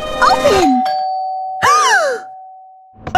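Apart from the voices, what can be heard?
doorbell ringing in Minecraft, video game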